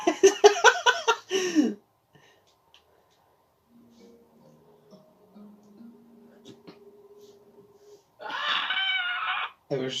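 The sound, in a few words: scream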